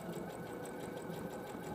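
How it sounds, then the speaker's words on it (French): Sewing machine stitching a garment neckline, a fast steady mechanical whir with rapid even needle ticks, quiet and continuous for the whole short stretch with no talking. "Nous allons coudre maintenant l'encolure en allant jusqu'au cran précédemment préparé."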